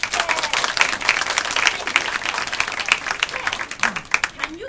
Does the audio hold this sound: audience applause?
yes